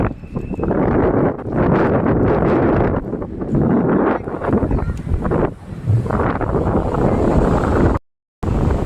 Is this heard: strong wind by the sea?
yes